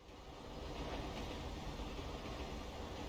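A train in GTA V rumbles past as a steady, broad, faint roar, with no speech.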